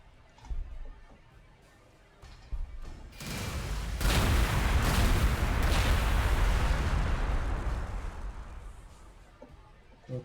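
Heavy artillery fire in the Warhammer 40,000: Gladius strategy game, with a few scattered booms and then a sustained, loud, rumbling barrage of overlapping blasts that swells and slowly fades.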